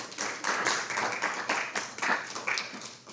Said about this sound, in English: let's give a round of applause to our candidates